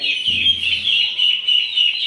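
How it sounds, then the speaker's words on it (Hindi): A bald rooster, bought from a market and puffed up with its feathers spread, calls in a steady high, nasal run of close clucks, with a brief low murmur early on. "ये देखिए हमारा गंजा मुर्गा"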